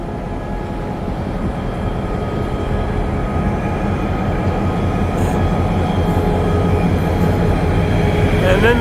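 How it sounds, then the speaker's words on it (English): A heavy Canadian National freight train rumbles steadily close by, a deep continuous roar of rolling wagons that grows slightly louder toward the end. "My first Canadian National train locomotive."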